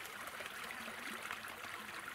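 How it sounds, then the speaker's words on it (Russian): Water flows steadily past concrete and brick at a rural crossing, a continuous soft rushing and trickling with no voices. "Вот вода идет."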